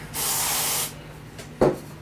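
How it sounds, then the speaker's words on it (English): Carb cleaner sprayed into the carburetor of a Honda Foreman ATV: one loud, steady aerosol hiss lasting under a second, then a short sharp spurt shortly after, close up. "we'll spray through it with the carb cleaner"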